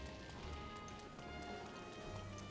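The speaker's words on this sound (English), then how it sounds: "And it's raining." Steady rain falls in the video game Breath of the Wild, a soft continuous patter that stays faint and even throughout.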